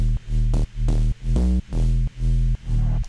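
Triangle-wave synth layer built in Serum inside FL Studio, played dry with no processing: a short run of repeated sustained notes at moderate loudness, each one separated by a brief gap, with no other sounds.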